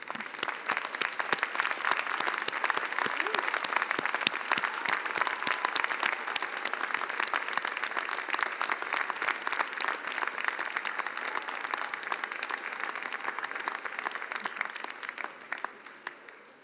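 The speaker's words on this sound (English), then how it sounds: "Let's give them all a round of applause." Steady, dense applause from a large audience fills a university doctoral hooding ceremony, sustained and even before tapering off at the end, with no talk over it.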